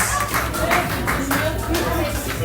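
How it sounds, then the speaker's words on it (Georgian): Applause rings out in a live studio show, a run of fairly regular, loud claps close by, with people talking over it. "ტაში"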